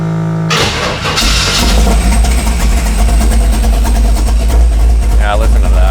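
Fuel-injected engine in a 1959 Impala-dash truck cranks and fires up, settling at once into a loud, steady, close rumble.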